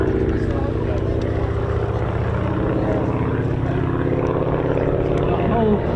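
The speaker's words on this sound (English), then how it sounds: "This trainer first flew in 1934" A 1934-designed propeller trainer aircraft, a PC-13D primary trainer, flies at an airshow, its engine droning loud and steady throughout while someone commentates over it.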